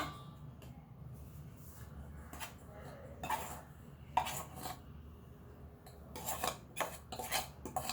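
Rice flour for chakli warmed in a pan, faint scattered scraping and rubbing strokes of a spoon against the metal, quiet and close, with a few louder bursts near the end.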